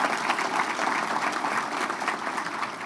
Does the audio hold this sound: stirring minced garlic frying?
no